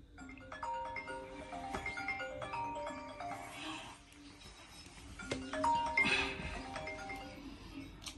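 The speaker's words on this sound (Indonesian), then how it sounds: "Ngapain Pak Imam telepon aku ya?" A mobile phone ringtone plays a repeating melodic electronic tune, moderately loud indoors, looping through two bursts, with faint voices in the background.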